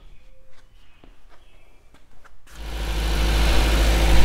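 A 1977 MGB car engine, just repaired after a broken manifold part, starts up and settles into a steady, loud idle after a couple of seconds of quiet shuffling and small knocks nearby.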